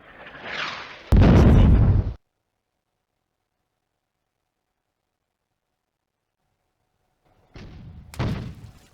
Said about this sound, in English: From the ridgeline. Probably an anti-tank gun.